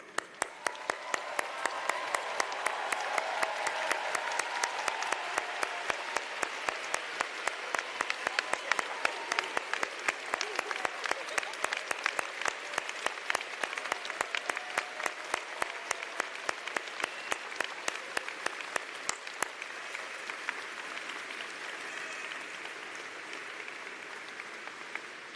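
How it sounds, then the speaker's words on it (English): A large crowd gives sustained applause as a standing ovation at a University of Alberta spring convocation, dense clapping filling the hall for about twenty seconds before thinning slightly toward the end, with no talking. "I think this moment merits a standing ovation"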